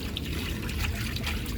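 Water gushes steadily from a motor pump once its valve is opened to feed an apartment tank. It makes a continuous close trickling and splashing wash with no voices.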